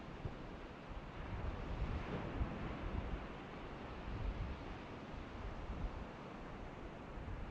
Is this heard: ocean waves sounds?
yes